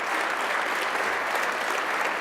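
Steady applause from a room full of people, a dense even clapping that holds for the whole stretch.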